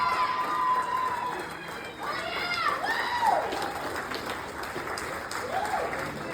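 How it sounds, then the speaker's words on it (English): Applause from an audience at a book launch, steady clapping mixed with crowd voices and cheering, with people talking and calling out over it throughout. "Come on, keep clapping, keep clapping, keep clapping, keep clapping."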